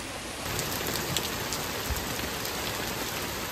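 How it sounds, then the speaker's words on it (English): Heavy rain pours down hard outdoors, a steady dense wash of drops that starts up and continues unbroken and fairly loud, with no voices. "Oh, the rain's picking up. I don't know if you can hear it. Ooh, it's coming down really hard now."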